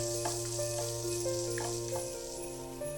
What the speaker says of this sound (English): Begin by frying 200 grams of chopped smoky pancetta.